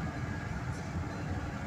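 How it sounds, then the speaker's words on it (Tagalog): A metro train at a station in Doha, heard as a steady, dense low rumble and rolling noise filling the short stretch without pauses. "Metro train station ito."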